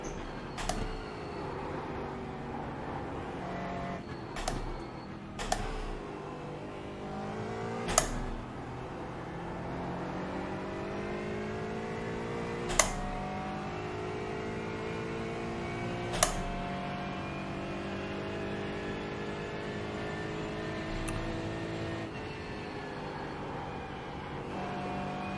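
Aston Martin GT4 racing car engine in a racing video game on the Nürburgring, a steady droning engine note with rising and falling gear pitch sweeps and occasional sharp clicks, continuous throughout with no talk.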